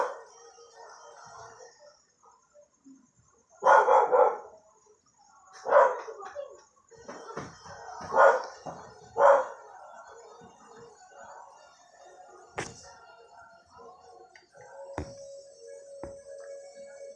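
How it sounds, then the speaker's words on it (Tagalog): A dog barks and howls in several separate loud bursts, close by, with quieter stretches and faint background sounds in between. "Maingay yung aso, guys."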